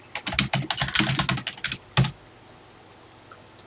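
Rapid keystrokes clatter on a computer keyboard while a short TI BASIC program is entered, a dense close burst of typing followed by one firm key press and then near silence.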